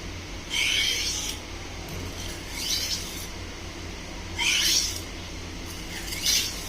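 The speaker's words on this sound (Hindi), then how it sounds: "ग्राइंड करने के बाद फॉरवर्ड स्ट्रोक लगा लेने हैं।" Knife being drawn in forward strokes across a sharpening stone after grinding, four separate hissing scrapes spaced about a second or more apart, close and moderately loud over a steady low background hum.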